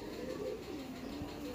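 A male Fulsira pigeon coos softly and continuously, a low, rolling, throaty murmur heard close by but quiet, with no other clear sounds over it.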